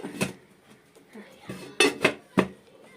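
A lid set down over a cake pot on the stove, heard as a few sharp close metallic clinks and knocks amid light kitchen handling.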